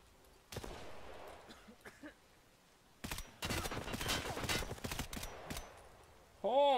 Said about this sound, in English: Can you guys fucking stop shooting me?